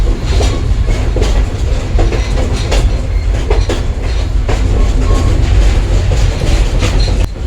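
Southern Railway No. 630 steam train rolling across a bridge, with loud continuous rumbling and a steady clickety-clack of wheels on rail joints throughout, heard up close and without speech.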